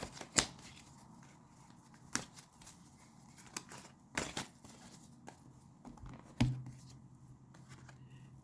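Oracle cards are handled quietly at close range. Sharp flicks and rustles come in separate bursts as a card is pulled, and soft background noise fills the gaps between them.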